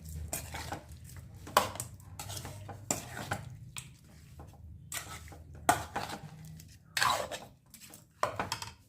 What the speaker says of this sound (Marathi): याला छान मिक्स करून घेऊया।